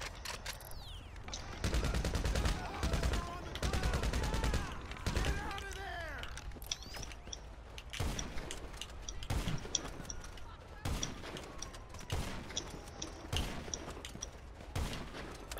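Rapid gunfire bursts from a GTA Online firefight, loud sustained volleys and sharp single shots with mechanical clicks and scattered later reports, under occasional game sounds.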